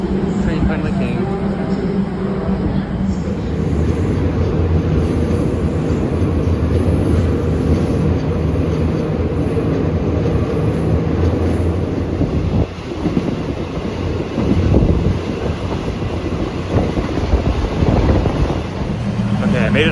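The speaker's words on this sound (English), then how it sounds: "Train finally came." A train pulls into a station in Thailand with a loud, continuous rumble and rattle of rail cars, heavy wind buffeting the microphone and a high whine above.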